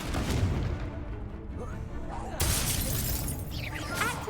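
A Confringo fire spell bursts in Hogwarts Legacy with a sudden sharp blast and shattering crack midway, over a dense backdrop of rumbling magical combat noise.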